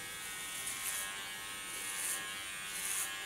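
Electric hair clipper buzzing continuously as it cuts hair on the back of the head, a close steady motor drone with slight periodic swells as the blades pass, no talking.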